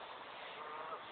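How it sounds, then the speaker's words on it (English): Duck being fed by hand gives a short honking quack, a single brief call close by over a steady background hiss. "That's a good duck."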